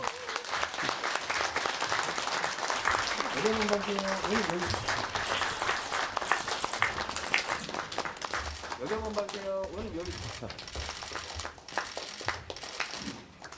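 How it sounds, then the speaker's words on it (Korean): Applause from an audience at a Dobong community talk event, a dense, steady clapping wash filling the whole stretch with voices talking over it. "자, 어색하니까 우리 박수 한번 좀 크게 쳐주십시오"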